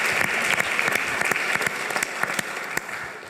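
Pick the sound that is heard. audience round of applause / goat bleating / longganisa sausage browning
audience round of applause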